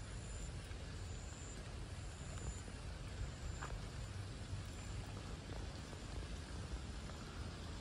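Steady, dense monsoon rain hisses and patters on surfaces at a plant nursery, a continuous wash of drops with no voices and a faint low rumble beneath.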